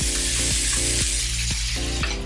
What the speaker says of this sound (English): Just sauteing some vegetables here